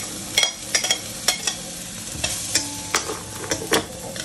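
Garlic, onion and ginger being sautéed for tinola in a pan, with steady sizzling and repeated sharp scrapes and stirs of a utensil throughout, close and fairly loud.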